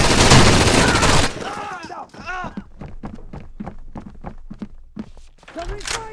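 Heavy gunfire in the Rainbow Six Vegas 2 Villa map on PS3, a dense loud fusillade at first, then scattered rapid shots and thuds with a shouted voice-like line mixed in.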